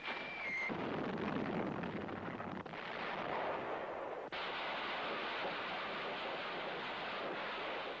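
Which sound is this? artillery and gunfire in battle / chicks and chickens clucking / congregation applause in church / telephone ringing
artillery and gunfire in battle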